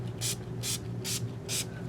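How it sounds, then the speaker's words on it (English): Guitar cleaner sprayed onto a soft cloth in four quick, evenly spaced hissing bursts from a trigger bottle, close and clear over a low steady hum. "We're going to spray it on the cloth."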